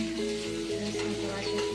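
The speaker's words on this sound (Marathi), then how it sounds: "चांगलं तळून घ्यायचं आहे. अद्रक लसूण त्याचा वास नाही," Ginger and garlic paste sizzles in hot oil in a pan, a steady, fairly quiet crackle with light stirring and a faint hum behind it.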